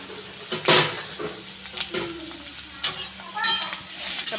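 Grated potato, grated carrot, chopped cabbage and chilies are stirred in a frying pan: loud spatula scrapes and clanks come in uneven bursts over a bright sizzle.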